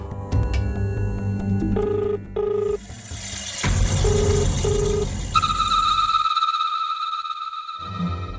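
An electronic phone ringtone chirps in repeated short tonal bursts, with sustained electronic tones and a brief quiet gap near the end.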